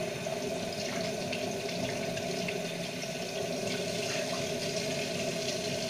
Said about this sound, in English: Adding some hot water.